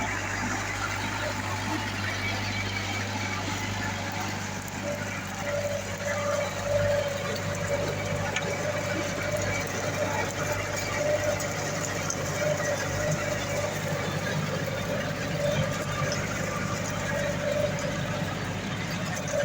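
Steady, continuous drone of a tractor engine running with a GL467 rotary tiller working the soil behind it, a loud even hum with a low-pitched tone throughout and no pauses.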